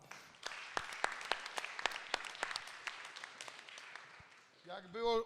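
Audience applause at a Polish foundation award event, a sustained crowd clapping with sharp individual claps standing out, ending as a voice begins to speak.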